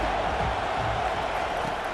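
A football stadium crowd at a Florida versus Arkansas game roars steadily, a dense continuous wash of distant voices with no clear cheers or claps standing out.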